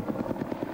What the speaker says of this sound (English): Helicopters and air tankers keep the flames from covering the hill near their home.